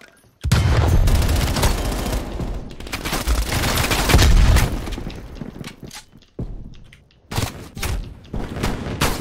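Dense gunfire in a Call of Duty: Cold War beta match, sustained loud automatic bursts and booms with shattering hits, then choppier separate volleys after a brief pause.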